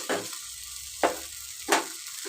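Leafy greens fry in a hot pan, with a steady low sizzle broken by three sharp stirring hisses at even intervals, close and clear with no voices.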